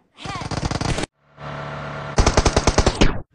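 Automatic gunfire in the mobile battle-royale game PUBG Mobile comes in three quick bursts of rapid, evenly spaced shots, with a short pause between the first and second bursts.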